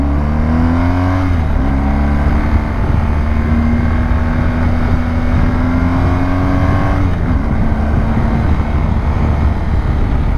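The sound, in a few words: motorcycle engine while riding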